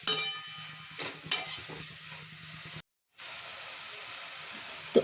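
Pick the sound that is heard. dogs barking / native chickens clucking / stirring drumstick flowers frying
stirring drumstick flowers frying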